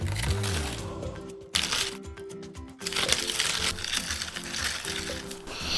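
Leftover powder from a crystal-growing experiment is stirred over rocks, giving gritty crunching and scraping in irregular bursts, fairly close, with short pauses between strokes.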